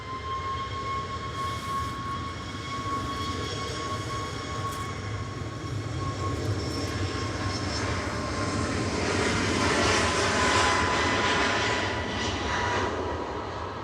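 Ryanair Boeing 737 MAX 200 jet at Manchester Airport, a steady engine whine and roar that builds to a peak near the end, heard from a distance with no talking.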